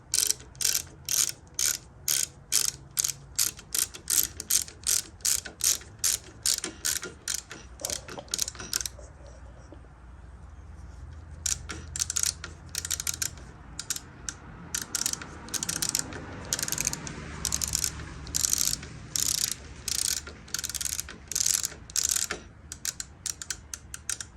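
A ratchet tightening a bolt on a Ford Mustang II during header panel installation: rapid, evenly spaced clicking strokes, a pause of a few seconds, then more bursts of close, crisp ratcheting, with no talking.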